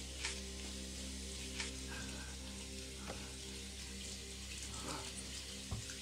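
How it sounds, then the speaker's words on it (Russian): A tap runs steadily in a kitchen, a continuous hiss of flowing water with faint clinks and brief taps over it, heard alone with no talking. "выключи воду."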